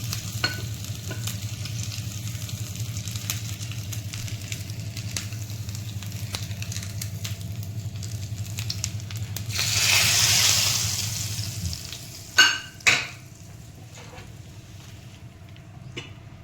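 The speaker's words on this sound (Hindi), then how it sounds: "इसका तड़का डालेंगे हम अपने छोले में।" Hot ghee sizzles steadily with a low rumble, then bursts into a brighter hiss as tempering ingredients hit the pan, followed by a couple of sharp clanks.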